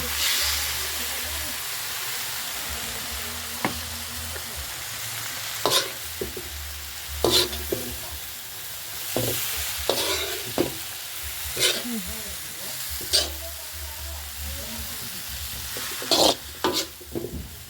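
Pancit noodles stir-frying in a hot pan, a steady sizzle broken by repeated scraping and stirring clacks of a utensil at close range.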